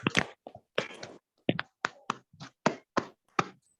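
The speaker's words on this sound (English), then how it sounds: "can we all unmute ourselves and give Ashwath a round of applause" An online class gives a classmate a round of applause over video call: sparse, separate claps or snaps from several participants, close and dry, each burst short with silent gaps between.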